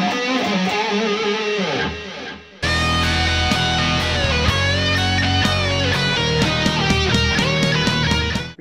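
Electric guitar plays a lick from a solo, with hammer-ons, pull-offs and slides over a full backing track; loud, dense phrase of quick notes with a brief drop before the band kicks in.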